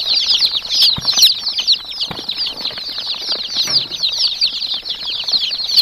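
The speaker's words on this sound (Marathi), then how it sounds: "आमच्याकडे कावराणी कोंबडीचे पिल्लू मिळतील" A crowd of Kadaknath and country-breed chicks peeps continuously in high, shrill chirps, close and busy, with faint rustling and scuffling below.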